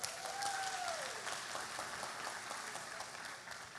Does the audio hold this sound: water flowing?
no